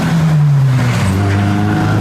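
A newly delivered car rolls out after its first wash, its engine rising and falling in pitch as it pulls away, loud and close with steady broadband road and tire noise throughout.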